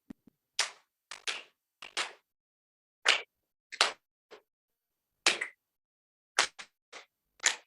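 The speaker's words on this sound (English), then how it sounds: "clap with me at this fairly slow rate" A group in a singing seminar claps hands together at a slow pace, sharp distinct claps spaced irregularly with near silence between them.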